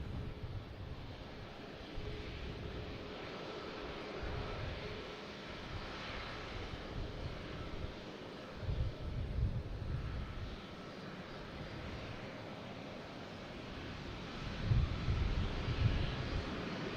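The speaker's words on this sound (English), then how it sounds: "I think we have United Airlines heading to Houston, a 737-900, flight 2060." A United Airlines Boeing 737-900 jet at Boston Logan airport rumbles steadily in the distance, a broad low engine roar mixed with wind that swells slightly near the end.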